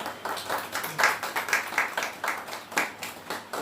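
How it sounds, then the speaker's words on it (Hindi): Scattered, uneven clapping from a church congregation welcoming a guest reverend during a Sunday service, moderately loud with rhythmic bursts and no speech. "हम सब तालियों के साथ जो है उनका स्वागत करेंगे"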